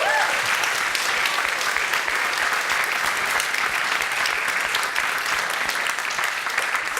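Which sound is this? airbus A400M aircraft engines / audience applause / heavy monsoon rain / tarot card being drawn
audience applause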